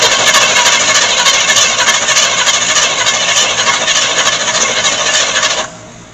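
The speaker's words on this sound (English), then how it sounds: "It does crank, and it seems to be extremely happy doing it" A 1975 GMC C10 Gentleman Jim pickup, left sitting for 18 years, cranks over steadily without firing, a fast, even churning whir that runs for about five and a half seconds before cutting off abruptly.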